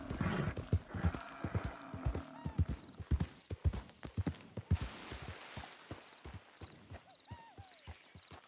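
Horse hooves clip-clop at a steady walking pace in Red Dead Redemption 2, close and crisp, with a brief whinny and faint background ambience.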